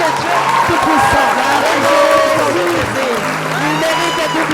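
An audience at an evangelical conference in Paris bursts into applause, dense clapping mixed with crowd cheering and shouted voices, loud and close throughout.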